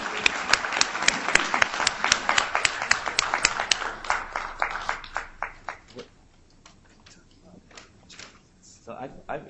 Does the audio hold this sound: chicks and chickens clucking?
no